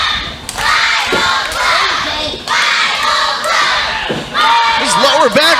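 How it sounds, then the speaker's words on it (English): Wrestling arena crowd at a Christian Wrestling Federation show chanting loudly in rhythmic waves for the Bible Club, a dense roar of many voices with a few higher shouts near the end. "Crowd chanting for the Bible Club."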